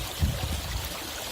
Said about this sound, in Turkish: şu akarsu da çok güzel oldu